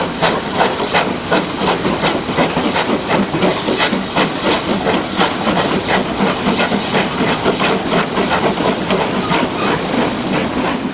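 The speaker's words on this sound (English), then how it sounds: "The former LSWR dock shunter approaches Horsted Keynes at the Bluebell end of the Ardingly" A former LSWR dock shunter steam locomotive draws close at Horsted Keynes on the Ardingly branch, with loud continuous steam hiss and rhythmic chuffing beats together with the clatter of wheels on rails, all close by.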